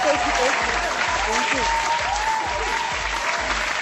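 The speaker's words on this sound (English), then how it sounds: "We're going to give you applause on that one real quick." A studio audience claps steadily through a comedy talk show segment, a dense, continuous wash of applause with faint musical tones and a rhythmic low thump underneath.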